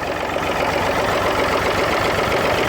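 An old David Brown 885 tractor's diesel engine idles steadily and loudly up close after a cold start, a constant rough chugging with no other sounds.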